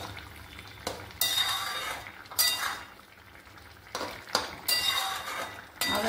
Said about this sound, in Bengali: দিয়ে আরও ভালো মতো আমি নেড়ে নিচ্ছি।